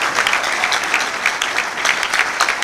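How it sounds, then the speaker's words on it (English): A graduation congregation ceremony audience claps in a dense, continuous round of applause, loud and close throughout the short burst. "recognize their contribution to your success today with a round of applause? Clap."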